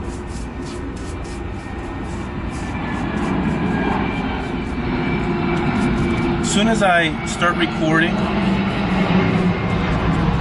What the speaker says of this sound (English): You can hear an airplane overhead.